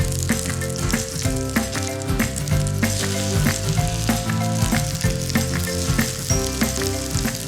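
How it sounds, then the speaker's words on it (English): Quinoa pancakes fry in olive oil in a hot pan, giving a loud, dense, constant sizzle with crackling pops throughout, over a steady tonal background and with no speech. "Hot pan, a little olive oil."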